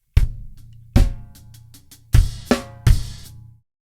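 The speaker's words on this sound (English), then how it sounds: "I like to vary it a little bit by playing more 16ths on the hi-hat" Drum kit ending from a groove, with a handful of loud, close hits of kick, snare and cymbal spaced unevenly and ringing briefly between strikes.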